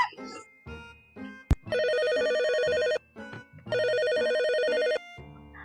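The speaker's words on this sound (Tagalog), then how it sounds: "Sasagutin mo ba yung telepono?" A telephone rings in two long electronic bursts separated by a pause, loud and close, with a sharp knock and voices talking around the rings.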